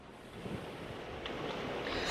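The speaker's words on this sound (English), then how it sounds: "it's been the wind that's continuing to pick up" Strong, steady wind roars along the coast at Daytona during Hurricane Milton, a broad rushing noise with microphone buffeting that swells louder toward the end, with no voices.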